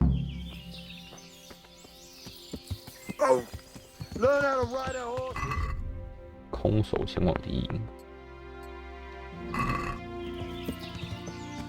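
Horse riding in the medieval video game Kingdom Come: Deliverance, with hoof clip-clops, a whinny and bird chirps amid game sounds, while a person talks over them.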